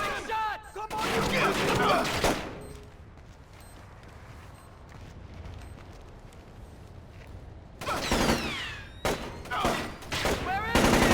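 Bursts of gunfire and loud impacts in the stealth video game Splinter Cell: Chaos Theory, dense volleys at the start and again near the end, with a quieter ambient stretch between and voices in the mix.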